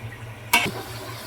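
Tomato masala for fish curry cooking in a pan, a low steady bubbling sizzle broken by one brief stir or splash near the middle, close by and with no talking.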